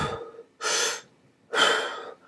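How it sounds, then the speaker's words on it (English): Two deep, audible breaths, each a long airy inhale or exhale about a second apart, close and clear with no talking. "Deep breathing activities."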